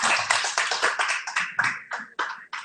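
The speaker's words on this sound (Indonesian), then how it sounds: "Berikan tepuk tangan untuk Tuhan." A burst of clapping from a church congregation at a Sunday service, quick overlapping claps fading and thinning out toward the end.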